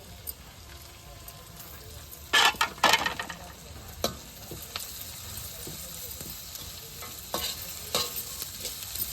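Onions, cabbage and beans frying in a pan, a steady low sizzle with two bursts of louder crackling as the vegetables go in, followed by scattered stirring scrapes.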